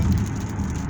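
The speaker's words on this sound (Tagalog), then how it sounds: "ulan na" Heavy rain pours steadily onto a surface, a dense, loud wash of sound with a low rumble beneath it.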